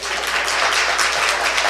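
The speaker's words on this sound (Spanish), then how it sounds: "Es un aplauso femenino" An audience applauds at a lecture on history and literature, a dense, even burst of many hands clapping that stays steady and fairly loud throughout.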